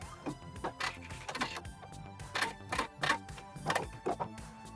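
A sewing machine backstitching a hem on a dolman sleeve top, heard as short, irregular mechanical whirring bursts with brief pauses between them, fairly quiet and close.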